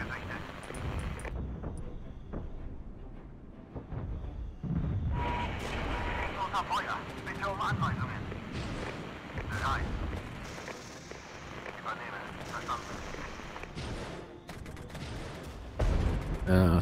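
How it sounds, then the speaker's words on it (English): Artillery strike explosions in the Regiments strategy video game, several booming blasts and rumbling impacts spread across the stretch at moderate loudness, with someone talking quietly in places. "Artillery strike again."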